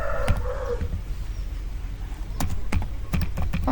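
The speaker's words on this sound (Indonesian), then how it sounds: "di sini kita bisa ketikkan enable" Keys clatter on a computer keyboard while commands are entered into a Cisco networking console, with scattered clicks early on and then quick bursts of keystrokes, close and fairly quiet, with no talking.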